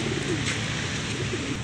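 Racing pigeons coo in a low, repeated throaty rhythm during a training session in Villasis, Pangasinan, close and steady over a continuous outdoor background hiss.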